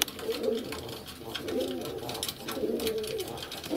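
Pigeons coo in a dovecote, three soft rolling coo phrases repeating at steady intervals over a low ambient hum, fairly close and moderately loud.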